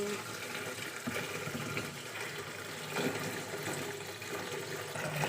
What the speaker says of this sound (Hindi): इसमें डाल देंगे पानी।